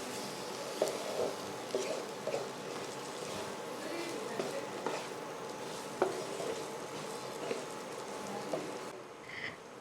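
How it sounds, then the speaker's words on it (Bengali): Rice being stir-fried with spices in a pan makes a soft, quiet sizzle, broken by repeated scraping stirs and light clicks at irregular intervals, with no talking. "চালটা মশলা দিয়ে ভালো করে কষিয়ে নিয়েছি"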